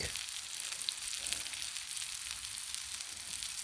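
Sirloin steak sizzles on a hot griddle, a steady close hiss of frying fat with fine crackling pops throughout and no voices.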